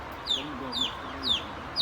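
A runaway turkey chick, separated from its mother, cries in four shrill, downward-sliding peeps at a steady rhythm, close and clear over a soft farmyard background.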